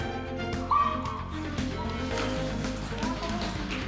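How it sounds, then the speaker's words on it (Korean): A dog whimpers with a brief, rising whine while climbing down, heard over steady background music. "낑낑대면서도 이겨내며 힘차게 내려가는 거봉이"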